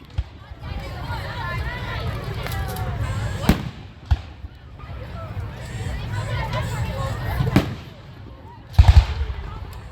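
Carnival fireworks burst overhead with a series of sharp booming bangs between long stretches of crackling and fizzing, while a crowd chatters and people talk close by.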